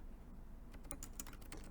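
Quick, faint keystrokes on a computer keyboard, a short burst of soft clicks in an uneven rhythm over a low background hum.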